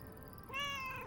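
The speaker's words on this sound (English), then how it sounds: "Here, little kitty, come on." A cat in the video game Lake gives one clear, drawn-out meow close by, rising out of quiet background ambience with no talking.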